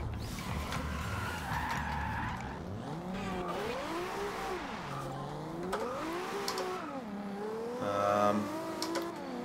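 A Jeep's engine in the racing game Forza Horizon 2 revs up and down in repeated sweeping waves while the tires squeal through drifts. The sound is steady and continuous, with no talking.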